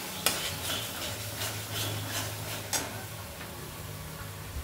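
Masala being stir-fried with yogurt and cashew paste for stuffed parwal dolma: a soft, steady sizzle under repeated light scraping and ticking of a spoon against the pan, fairly quiet and close.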